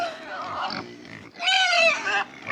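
Pigs on a small farm squeal and scream loudly in two long, harsh bursts, with a short lull between them and grunting underneath.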